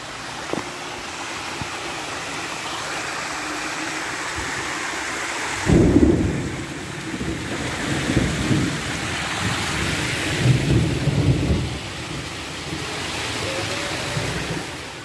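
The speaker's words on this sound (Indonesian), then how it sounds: "Buru ada hujan." Steady rain falls in a mountainous area at the foot of Mount Tangkuban Perahu, with a deep rumble of thunder rolling in partway through and further low rumbles swelling and fading beneath the constant hiss.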